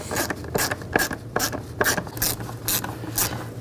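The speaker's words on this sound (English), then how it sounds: "Tighten down the worm clamps." Worm clamp screws on a vapor canister purge solenoid of a 2010-16 Buick Lacrosse being tightened with a ratcheting tool, quick rhythmic clicking bursts, close and alone.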